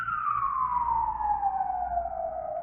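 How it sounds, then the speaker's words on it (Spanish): An ambulance siren passes by, its steady wailing tone sliding gradually downward in pitch as the vehicle moves away, loud and continuous over low traffic rumble. "mi cerebro me está botando la imagen de la ambulancia que está pasando"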